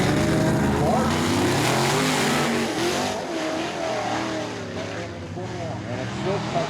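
Sprint race cars at Ohsweken Speedway roar loudly past in a pack, engines revving steadily as they come off a corner, under an excited announcer commentating.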